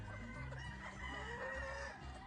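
Broodcock rooster at a Philippine game farm, clucking and giving short crowing calls against a steady background of other fowl, fairly close with no talk over it.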